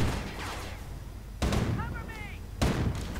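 Tank cannon fire in a Company of Heroes style World War II strategy game, two heavy booming shots about a second apart over a dense rumbling battle backdrop, with brief whistling tones between them.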